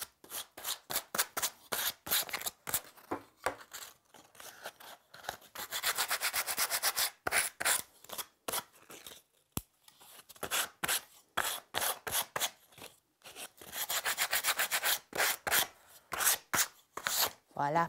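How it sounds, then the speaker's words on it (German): Sandpaper rubbing back and forth over a wooden bench board to lift large splinters, a close, steady run of rasping strokes in quick bursts with brief pauses, no voices. "Da muss ich mein Schleifpapier holen, für die Stegraffen, für die Großsplitter hochkriegen."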